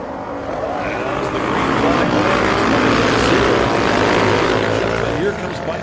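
Road racing motorcycles at a 2020 AHRMA national roadrace charge loudly into turn one, a dense sustained engine roar of the field passing close with a commentator talking over it.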